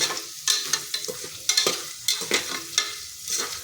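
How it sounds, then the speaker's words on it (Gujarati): Halved cashews sauté in oil in a pan for matar pulao, a close crackling sizzle punctuated by frequent spatula scrapes and knocks against the pan at an uneven, busy pace. "તો કાજુને મેં અહીંયા 2 ભાગ કરી લીધેલા છે। બધું જ આપણે અહીંયા સરસ સાતળી લઈશું"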